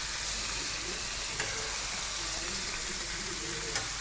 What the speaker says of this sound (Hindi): ये चिकन को मैं फ्राई कर रही